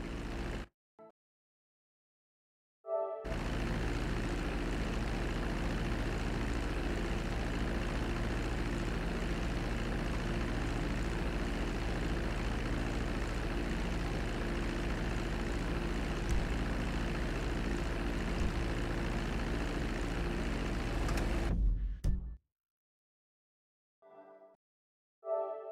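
Propeller airplane in GTA 5 Online at full throttle for takeoff: a steady, loud engine drone that holds for about twenty seconds, starting and cutting off abruptly, with no talk over it.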